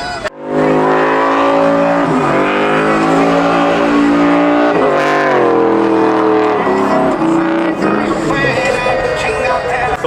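A Ford F-150 pickup truck revs hard at a car meet where trucks do burnouts, its loud engine climbing and holding high, with a brief surge and faint tire noise nearby.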